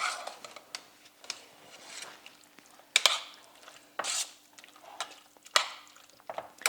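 A spoon stirs a jar of bolognese sauce in a pan, making soft, wet scraping sounds. Sharper clinks against the pan break in at irregular intervals, all fairly quiet and close.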